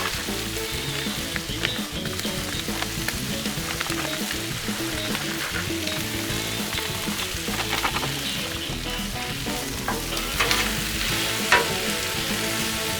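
Rice hitting a hot Blackstone griddle full of jambalaya sizzles and fries steadily, with close stirring and scraping noises over a continuous, fairly loud hiss and no voices.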